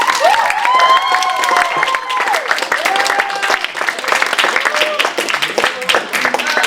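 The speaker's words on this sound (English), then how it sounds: "let's give the judges and the math geniuses and the timekeepers a round of applause" Crowd at a high school story slam giving judges and timekeepers a round of applause: dense clapping mixed with cheers and whoops, voices calling out over the steady clatter throughout.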